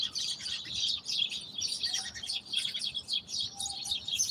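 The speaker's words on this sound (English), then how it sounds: "Oh, the birds are celebrating. They are singing." Birds chirp and sing continuously in the morning, a dense layer of high, quick tweets with a few lower calls, moderately distant and steady throughout, with no voices present.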